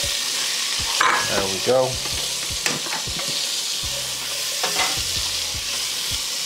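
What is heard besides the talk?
celery and onions sizzling as they are stirred in a pot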